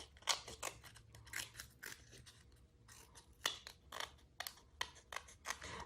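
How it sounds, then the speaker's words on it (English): Scrapbook paper is cut and trimmed with scissors in a run of crisp, irregular snips and crunches, close and fairly quiet, with no talking. "So let's go ahead and trim this all down."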